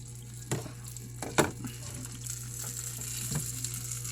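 Long, narrow Cambodian sausages frying in a pan, a soft continuous sizzle with a few louder pops and spatters at irregular intervals, no talking.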